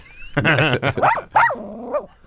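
Dogs that won the Westminster Dog Show bark loudly and close by in a radio studio, a quick burst of several yelping barks and whiny yips with no talk over them.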